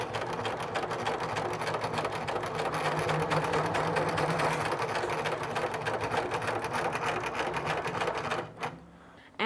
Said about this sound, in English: I am just gonna sew directly on the line. Let's get started, let's start sewing it.